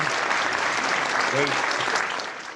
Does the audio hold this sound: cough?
no